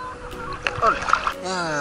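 Sea water splashes and sloshes around a wader at the beach at Alassio, in short bursts over quiet background, with a voice talking in the middle and at the end.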